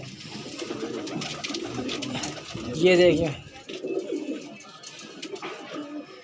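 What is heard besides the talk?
Madrasi pigeons cooing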